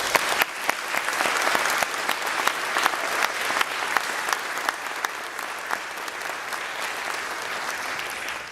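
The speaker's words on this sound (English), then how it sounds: "can we please give these 4 Eagle Scouts a round of applause?" Steady round of applause from an indoor audience honoring four Eagle Scouts at a ceremony, dense overlapping claps continuing for several seconds with no talking.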